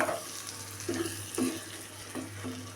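A spoon scrapes through stuffed brinjal masala curry in a pan in a few soft, separate stirring strokes, with a gentle sizzle underneath. The sound is quiet and close, with no talking.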